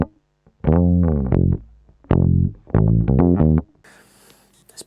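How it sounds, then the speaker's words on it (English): Electric bass guitar played with audible distortion during a funk recording session setup, a few tight, punchy note phrases in bursts with short gaps between them, alone and fairly loud. "There's a bit of distortion there."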